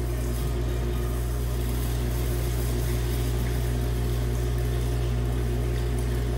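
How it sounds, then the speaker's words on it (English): A pump runs steadily in a jet impact lab rig, a constant droning hum with strong low tones and broadband hiss that holds level and unbroken throughout, with no voices. "Let's turn on the pump."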